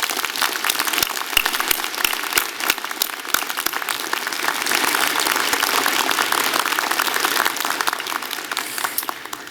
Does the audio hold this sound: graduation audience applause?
yes